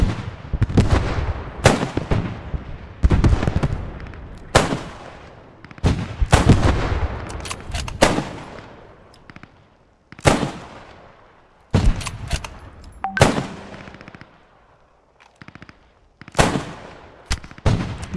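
In a video game, loud, sharp shots crack out one after another at irregular intervals, some booming heavily and echoing, with short quiet gaps between.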